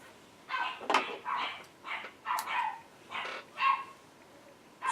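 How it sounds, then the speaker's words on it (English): Several sharp dog barks come in irregular bursts, close by and fairly loud, with short quiet gaps between them. "They bark at everything."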